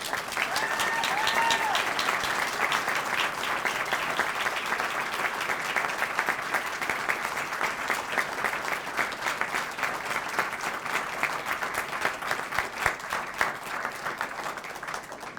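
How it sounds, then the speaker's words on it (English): An audience at a Boise State evening speaker event claps for all the speakers in a long, steady round of applause that holds at an even level throughout, with a brief voice near the start. "give all of our speakers a round of applause"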